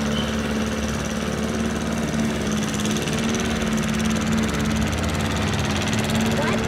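A lawn mower runs steadily on a large residential lawn, its engine droning at a constant pitch throughout, fairly close and loud with no pauses.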